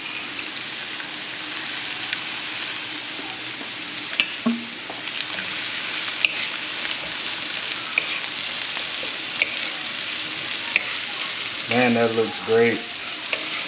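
Crappie fillets fry in a pan with a steady, close crackling sizzle that runs throughout, broken by small pops and a brief stir near the end, while someone speaks a short line.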